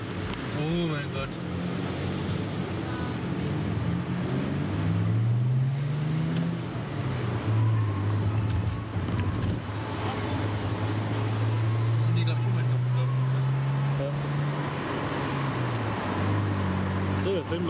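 Inside a car on the road, engine hum and road rumble hold steady, with a low drone that rises and falls as the vehicle changes speed, and voices talk over it.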